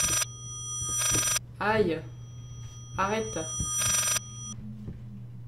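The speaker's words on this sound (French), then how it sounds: "Voilà, c'est le téléphone." A telephone in the Layers of Fear video game rings in several loud electronic bursts, each lasting about a second with short pauses between them, while someone speaks briefly over a steady low hum.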